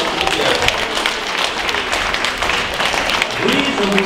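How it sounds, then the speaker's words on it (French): An audience at a foundation event applauds in a steady, dense wash of clapping that holds throughout, with a voice speaking over it. "Moi, je vous applaudis."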